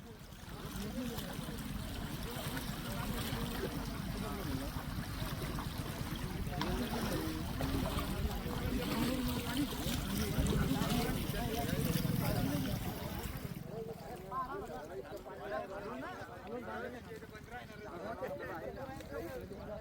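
Steady rushing of the flooded Painganga River flowing nearby, a broad continuous wash that softens toward the end, with voices talking over it.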